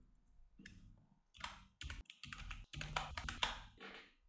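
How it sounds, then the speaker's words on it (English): Keys on a computer keyboard tapped in quick irregular bursts and short clusters over about four seconds, close and fairly crisp, with no one talking. "let's type over here whatever you want to type."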